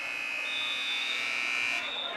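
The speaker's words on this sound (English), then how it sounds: "At the buzzer" A high-school boys basketball game between Hoffman Estates and Fremd, with the end-of-first-quarter buzzer sounding as a loud, steady electronic tone for almost two seconds over the gym crowd's noise before cutting off.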